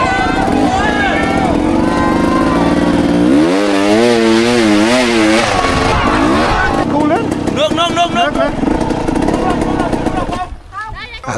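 An enduro motorcycle engine revving hard during a rough off-road race in Vietnam, loud and close with rising and falling pitch sweeps as the throttle works, continuous throughout with other noise mixed in.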